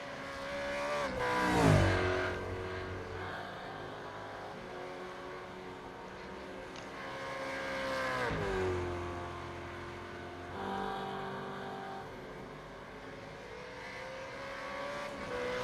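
Supercars Championship race cars, Holden Commodores and Ford Mustangs, racing at Watkins Glen International, with engines rising and falling as cars pass one after another, heard from a moderate distance in steady succession.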